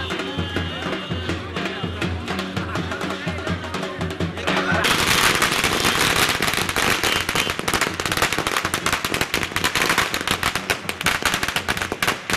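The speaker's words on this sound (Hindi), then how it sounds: "खुशी में आतिशबाजी भी की गई" Celebratory firecrackers crackle in dense rapid chains outside a Congress party office, loud and continuous, building from a steady stream of pops to a heavier, brighter barrage with crowd noise beneath.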